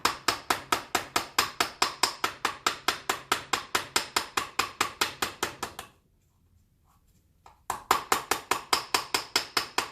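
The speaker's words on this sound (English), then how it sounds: "It's brass and plastic, and you're just going to kind of tap around and make the gasket face on the edge." A brass-and-plastic mallet taps gasket material against a flange edge in a rapid, even series of close, sharp knocks, pausing briefly before resuming at the same quick rhythm.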